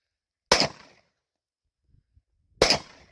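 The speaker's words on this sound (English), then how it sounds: "I'm going to shoot this" A Glock 26 pistol fires two loud, sharp shots about two seconds apart, each with a short decaying tail, against near silence.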